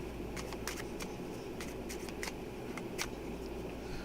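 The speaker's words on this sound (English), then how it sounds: "We're going to do an overhand shuffle." A deck of playing cards getting an overhand shuffle, a run of quick, soft riffling flicks and taps spaced unevenly over a steady low background hum, fairly quiet and with no voices.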